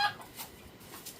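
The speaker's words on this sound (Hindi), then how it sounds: "पापा का मुर्गा है, बड़ा सा मुर्गा है" Large rooster at a tribal village home clucking in a few short, faint bursts, heard from a little distance with no talk over it.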